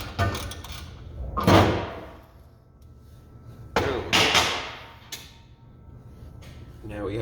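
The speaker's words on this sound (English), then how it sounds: "now it's time to remove that last bolt and remove the motor" Removing the last bolt and lifting out a 120V single-phase electric motor: two loud metallic clanks and thuds at the start and middle, with scraping and softer knocks between them in a workshop.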